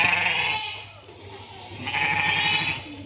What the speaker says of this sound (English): Some sheep here, right as we walk out. Some sheep.